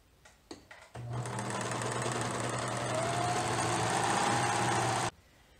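A sewing machine stitches around a dress hem while a Vogue 9057 pattern is sewn up. A few soft taps come first, then a steady, close motor whir runs for about four seconds before stopping abruptly.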